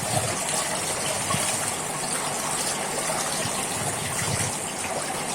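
Running water gushes steadily over small fish being washed, a close, continuous splashing rush with no pause.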